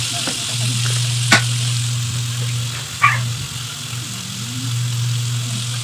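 Bitter gourd dropped into a pan of golden-brown frying onions, giving a steady sizzle with a steady low hum beneath and a couple of sharp clinks from the pan or utensil, no speech.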